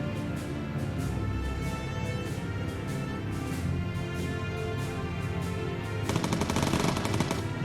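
In the video game Bomber Crew, .303 machine guns on a bomber fire in long, continuous rapid bursts over a steady background roar. The fire gets denser and harsher near the end.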